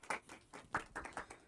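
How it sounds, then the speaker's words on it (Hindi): A live audience at a Hindi-language teacher-launch event gives a short round of clapping to welcome a new teacher, with uneven bursts of hand claps over about a second and a half. "एक बार ताली हो जाए"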